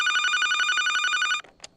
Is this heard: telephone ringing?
yes